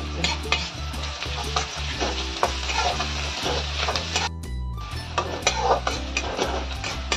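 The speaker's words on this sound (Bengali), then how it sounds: "এখানে আমি রসুনটা থেতো করে নিয়েছি, রসুনটা দিয়ে দিচ্ছি।" Crushed garlic frying in a pan with half-fried katla fish and green chillies, giving a loud, steady sizzle with spatula stirring and occasional utensil clinks, without talk.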